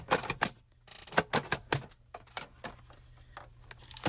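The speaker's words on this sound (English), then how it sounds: "I just put the heavier platform on top and roll it through on the die cutting setting" A die cutting machine on its die cutting setting rolls a Gina K flowering vine layering stencil and paper through under a heavier platform, giving a run of sharp, close clicks and ratcheting knocks in uneven bursts.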